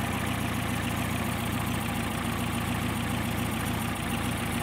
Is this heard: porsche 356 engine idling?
yes